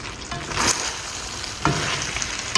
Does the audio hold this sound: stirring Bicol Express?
yes